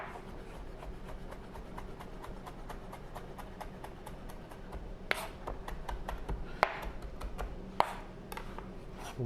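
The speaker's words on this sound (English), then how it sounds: "I'm about to cut up some herbs and some onions to put over it" A knife chops herbs and shallot on a cutting board in a rapid, even series of light taps, with a few louder knocks mixed in, close up and without talk.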